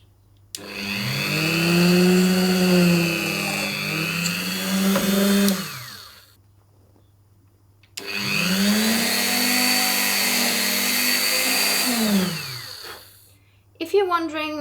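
A Dremel rotary drill drills into silver jewelry in two long bursts of steady high whine, each lasting several seconds with a pause between, close and loud, with a short restart at the end.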